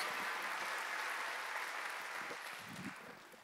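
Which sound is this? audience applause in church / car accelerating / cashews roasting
audience applause in church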